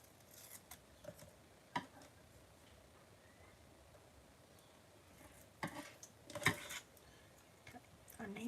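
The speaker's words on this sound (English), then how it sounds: "I need to snip off a little bit more" Scissors snip paper during card making, several short, crisp cuts scattered across the stretch, with a cluster of snips near the end, fairly quiet and close, with no talking.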